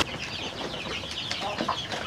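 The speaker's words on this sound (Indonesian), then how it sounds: "Ayam-ayam yang telah menunggu waktunya makan pagi" Free-range kampung chickens waiting for their morning feed cluck and chatter in a busy, close flock with no talking.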